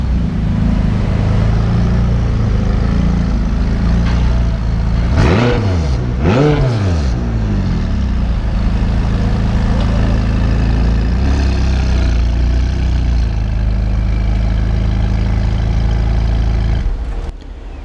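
A McLaren 570S sports car engine idles with a deep rumble, then revs sharply twice in quick succession before settling back to a steady idle.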